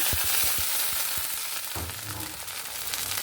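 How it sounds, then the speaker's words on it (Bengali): Onions sizzle in hot oil with a torn bay leaf while being stirred, a steady bright frying hiss punctuated by repeated low scraping knocks of a spatula against the pan. "পেঁয়াজটাকে ভেজে আমি একটু বাদামি কালার করে নেব"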